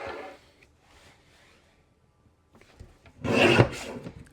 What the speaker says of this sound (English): let's trim this at 11